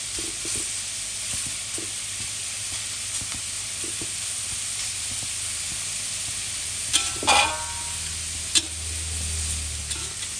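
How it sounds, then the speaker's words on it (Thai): Pork belly fries in a dry pan with no oil, giving a steady close-up sizzle and hiss, broken by a few louder stirring scrapes and spatters toward the end. "ทอดหมูสามชั้นก่อนนะคะไม่ต้องใส่น้ำมันนะ"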